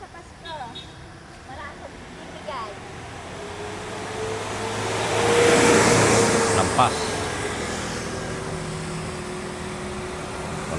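Car passing on a road near a forest where monkeys gather, its engine and tire noise swelling from faint to a broad whoosh at the middle and then fading, with people talking nearby.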